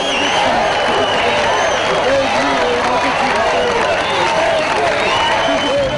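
A concert crowd applauds and cheers loudly for a singer at a show in Antalya, a dense, steady wash of clapping and shouting that fills the whole stretch, with crowd voices mixed in.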